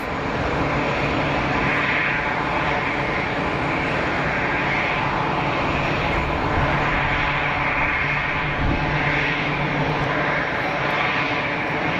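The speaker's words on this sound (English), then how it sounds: "EasyJet 320 over the numbers." An easyJet Airbus A320 jet comes in to land at Geneva Airport, a loud continuous engine roar with a broad rushing hiss that holds steady throughout, close by.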